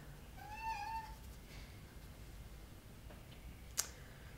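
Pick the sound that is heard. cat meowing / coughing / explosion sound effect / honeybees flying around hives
cat meowing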